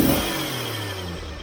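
Jeep CJ-7 engine running steadily close by, a smooth even drone with a slight settling in pitch, no stumble audible.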